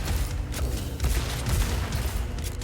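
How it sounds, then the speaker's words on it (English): Rapid crossbow firing in the rhythm shooter Metal: Hellsinger, heard as dense, overlapping bursts of shots and impacts set under a loud, continuous game mix with no pauses. "The crossbow usually, you know how I'm rapid firing it?"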